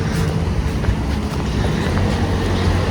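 Wind buffets a microphone outdoors in a European town, a steady loud rumbling roar with gusty low thumps throughout, no voices.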